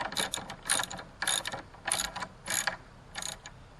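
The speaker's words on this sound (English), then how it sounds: "a box end and a socket work well for this" A socket wrench and box-end wrench ratchet while tightening nuts on a DN iceboat, giving six separate bursts of quick clicking spaced about half a second apart, close and crisp with no talk.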